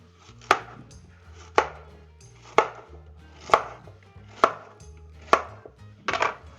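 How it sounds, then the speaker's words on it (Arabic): A knife chops zucchini for vegetable soup on a board: seven crisp, evenly spaced cuts about a second apart, close and loud with nothing else around them. "هنبتدي برضو نقطعها لشوربة الخضار"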